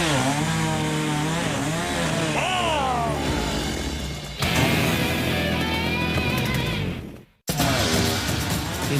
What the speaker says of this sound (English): forced to improvise with a chainsaw